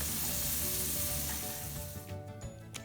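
Pumpkin and long beans sabzi frying in a pan, a steady close sizzle that runs continuously and eases slightly toward the end, with a few faint clicks of a utensil.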